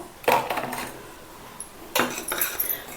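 A face pack of tomato and red sandalwood powder stirred in a bowl, with a spoon clinking and scraping against the bowl in two short bursts separated by a quiet pause, close and fairly clear.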